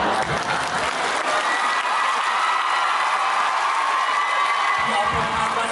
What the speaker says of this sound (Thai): เราจบในการขอเสียงปรบมือในอีกครั้งหนึ่งครับ